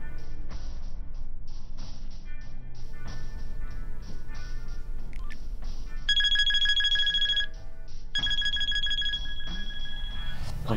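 A cell phone rings with a bright electronic melodic tone in two clear bursts over a steady background hum, with brief chiming notes before them.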